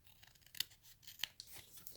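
A few quick, crisp snips of scissors trimming the corners off a glued paper tag, faint and close in a quiet room, with small rustles of paper between cuts.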